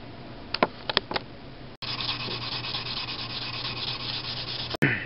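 Steady scratchy rubbing of sandpaper on the wooden body of an ESP LTD guitar, close and continuous after a few brief knocks, ending with a sharp bump.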